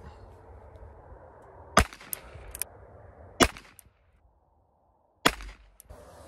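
A Ruger Wrangler revolver fired while sighting in its fixed sights gives three sharp, loud cracks spaced a couple of seconds apart, each with a brief echo, over faint outdoor background.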